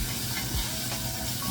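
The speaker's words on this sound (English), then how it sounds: "So I'm just like frying this up a little bit right now." Steady hissing sizzle, like food frying in a hot pan, continuous and fairly close with no talking.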